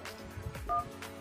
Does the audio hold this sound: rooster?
no